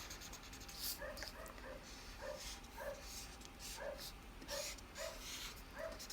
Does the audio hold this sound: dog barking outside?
yes